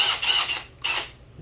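Deburring tool scraping burrs from a small hole in a liquid culture lid, two short creaking scrapes, close and fairly quiet.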